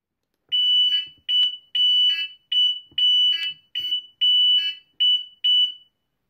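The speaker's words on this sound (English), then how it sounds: "To sound the siren audio alarm, trigger the siren either from the Reconeyez app siren menu or using the server siren device" A Reconeyez security system siren being tested sounds as nine loud, close, shrill electronic beeps in quick uneven bursts, each about half a second long, with no voices.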